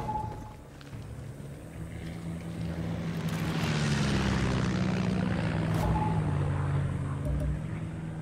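Propeller planes flying in the video game Far Cry 6, a swelling engine drone that builds to a loud roar and then slowly fades, with a steady low rumble underneath.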